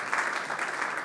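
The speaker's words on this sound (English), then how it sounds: "Should we give them a round of applause?" A church audience gives a round of applause for the youth group, a brief continuous patter of many hands clapping together at a fairly loud, even level, with no voices over it.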